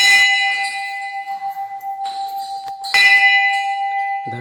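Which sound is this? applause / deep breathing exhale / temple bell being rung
temple bell being rung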